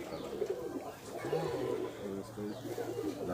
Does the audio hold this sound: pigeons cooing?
yes